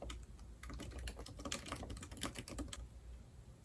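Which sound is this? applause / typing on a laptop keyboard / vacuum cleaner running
typing on a laptop keyboard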